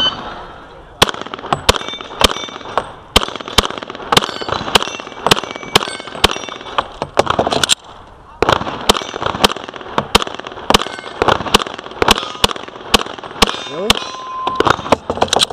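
Gunshots ringing steel targets at a shooting practice range, a rapid series of sharp loud cracks each followed by metallic clangs, in two strings separated by a brief pause.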